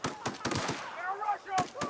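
Rapid gunfire in the video game The Outer Worlds, a quick burst of sharp shots, then a voice amid the fight, then two more shots near the end.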